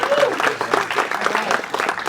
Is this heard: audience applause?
yes